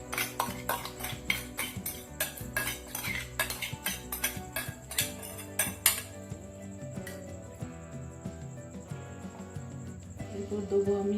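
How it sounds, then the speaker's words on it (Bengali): Spices and paste mixed into chicken: rapid metallic scraping and clinking of a spoon against a bowl for about six seconds, then quieter background hum with faint clatter. "এবার আমি সব মশলাগুলো এতে মাখাবো।"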